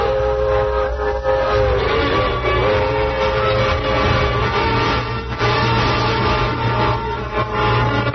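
A train pulls into a station in an old radio drama, with a loud, continuous rumble of rolling wagons and a sustained horn or whistle tone sounding above it.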